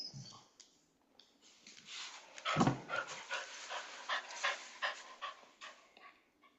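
A dog pants heavily close to the microphone, with a rapid, uneven run of breathy huffs and a louder snort partway through, carrying on to the end with no one talking.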